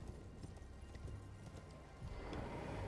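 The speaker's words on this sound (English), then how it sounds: "I do find it kind of funny how you can just run throughout Ronnie's Rise with a horse all the way up to her." Horse hooves galloping in the Elden Ring video game, a steady run of clip-clop beats that stays close and continuous throughout, with game ambience underneath.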